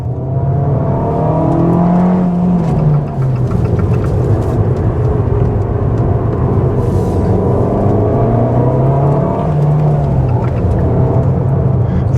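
A 2023 Abarth 695 C Competizione with 180 hp and a limited-slip differential, driven hard through a fast corner on track, its engine droning loud and steady with rising and falling pitch as it holds speed.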